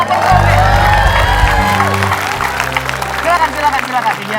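An audience claps and cheers for a band at a televised Indonesian show. The applause and whoops come alongside a booming low musical swell, with people talking over it.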